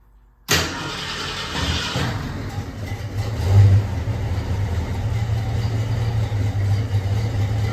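A 1966 Ford Mustang engine that sat unused for 16 years fires up abruptly and settles into a loud, steady running rumble with a brief swell in revs, close by and with no talk.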